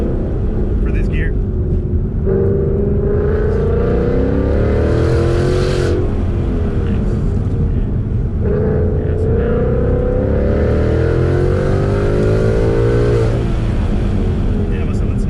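A Ford Mustang driven on a race track during a track day, held in second gear: its engine drones loudly and climbs in pitch through two long rising pulls, with people talking over the cabin noise.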